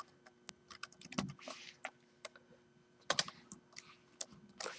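Keyboard keys tapped in a quick irregular cluster while pasting with Control-V in Excel, each press a close, crisp click with short pauses between bursts.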